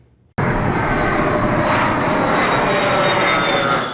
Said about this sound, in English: Dozens of flights come in and out of Dane County Regional every single day, and it's a fact of life that they're going to make noise.